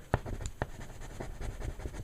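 Close, dry scratching of a thick coloured pencil moving over paper in quick repeated strokes, with a few sharper taps, no voices.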